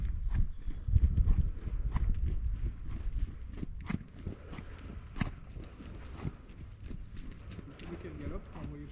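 A horse moves during an equicoaching session, with rhythmic, muffled hoofbeats on soft ground, heavier at the start, under nearby talking and ambient noise.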